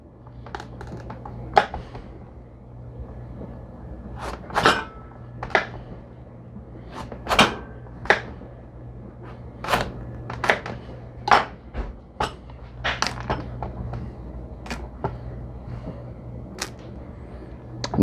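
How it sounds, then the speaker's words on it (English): A knife cuts through a pumpkin with sharp, intermittent cracks and snaps spread over the whole stretch, some loud and near, above a low steady hum in a quiet kitchen. "we are going to cut the pumpkin"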